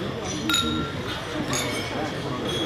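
Wine glasses clink a few times in a bright, ringing way during a toast at a football club business event in Qingdao, amid crowd chatter.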